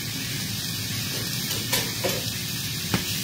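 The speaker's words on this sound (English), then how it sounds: "I'm going to add a little bit more oil to the pan. There we go. And add the rest of this steak in." Pieces of steak sizzle loudly in an oiled frying pan, a dense, continuous hiss broken by a few sharp pops and crackles, close and with no talking.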